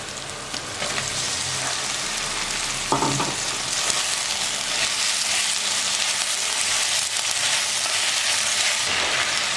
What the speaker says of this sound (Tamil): மட்டனில் நல்லா உப்பு காரம் மசாலாலாம் இறங்கிறதுக்காக நல்லா 1 நிமிஷம் நல்லா வறுக்கலாம்